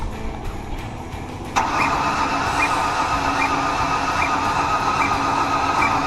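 A 2007 Ford Ranger under engine diagnosis fires up after a few cranking seconds and settles into a loud, steady rev with a faint rhythmic ticking, no talk over it.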